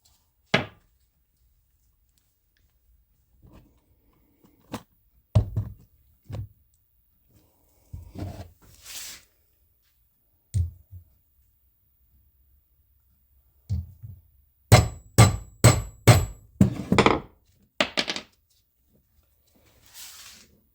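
A punch is hammered through a universal engine diaper resting on a small wood block in a vise, giving scattered sharp blows and a tight cluster of four quick strikes near the end, each crisp and close.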